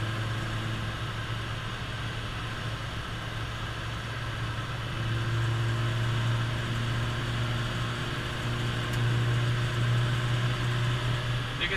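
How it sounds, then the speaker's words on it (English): Inside a truck with a Weber carburetor under way, the engine hums as a steady close drone amid road noise, swelling slightly in the middle and again near the end. "you can hear that little Weber kick in"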